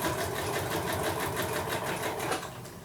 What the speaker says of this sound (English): I'm going to straight stitch that to tack it down